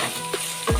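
Okra coated in gram flour and turmeric frying in an open pan, a steady soft sizzle with a couple of brief stirring scrapes, close and moderately loud.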